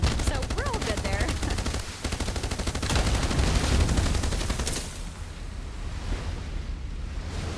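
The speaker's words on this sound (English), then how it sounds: "Here we get to see the enemy using a different type of weapon again. This is a cannon." Enemy NPC cannon in the Age of Water naval video game fires amid sustained gunfire, with heavy booms over a roar of waves and wind, loud and dense at first, then easing into a steady washing surf.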